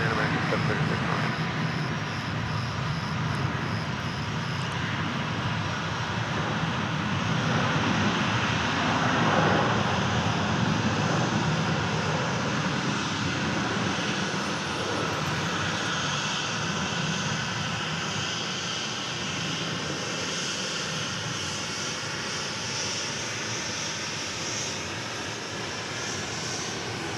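An American Airlines jet arriving from Orlando lands on runway 36 left at Dallas Fort Worth airport, its engine roar steady and broad throughout, swelling slightly midway, with voices talking faintly underneath.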